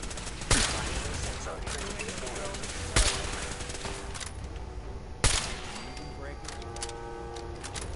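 Gunfire in the video game Fallout 4 rings out as three loud separated shots over a steady hum of game background, each with a short ringing tail.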